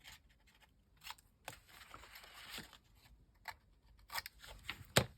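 Scissors snip the corners of junk journal paper, producing soft, close snips and paper rustles at an irregular pace, quiet overall with a sharper cut near the end.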